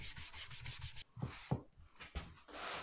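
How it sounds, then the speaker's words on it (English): A rag rubs excess wood dye off a wooden surface in quick, close, scratchy strokes, first in a rapid even rhythm and then in slower irregular swipes, quiet and with no talking. "And then I just rub the excess off with the same piece of rag."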